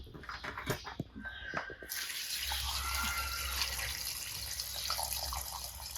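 Water gushes from a tap into a container to soak hay cubes, starting after a few quiet clinks and then running as a steady, close splashing flow with no talk.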